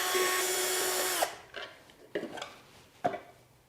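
A power tool driving out three T30 Torx screws from the dust cover of a DeWalt DW735 planer: a steady, loud whirring run, then short bursts of metallic rattling and clicks as it works on the screws.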